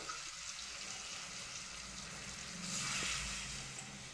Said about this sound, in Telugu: ఇప్పుడు ఇందులో వాటర్ వేసుకుందామండి